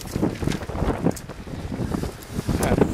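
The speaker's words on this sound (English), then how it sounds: "I hope the wind's not bothering the sound too much." Gusty wind buffets an outdoor microphone with continuous low rumbling and uneven surges, loud and close throughout.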